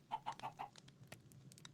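Chickens in the video game Minecraft cluck softly, four quick clucks in a row followed by scattered faint clicks and ticks, quiet with no talk.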